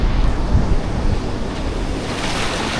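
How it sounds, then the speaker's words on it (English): Strong ocean waves rolling in on Pasut Beach, loud and close, a continuous wash of surf with heavy wind buffeting the microphone. "waves are coming in pretty strong here"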